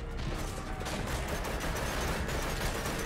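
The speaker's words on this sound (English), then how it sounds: "Is that a tank shooting at us?" A tank firing on the player in Metal Gear Solid V: The Phantom Pain, heard as a dense, loud wash of rumbling blasts and mechanical clatter that fills the whole stretch without pause.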